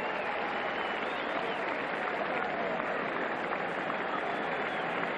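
A stadium crowd at the 1993 Lausanne athletics meeting applauds shot putter Werner Günther. The clapping is a steady, dense wash heard from a distance and continues without a break.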